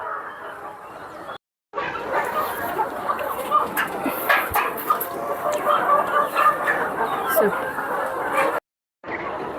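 Chickens cluck around a farmyard, with scattered close clucks and bird calls running under a person talking, and two brief silent gaps.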